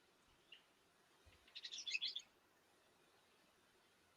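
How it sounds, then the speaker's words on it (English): A brief burst of high early-morning bird chirps in the middle, fairly faint and distant, against a quiet background. "You'll probably hear some birds chirping in the background"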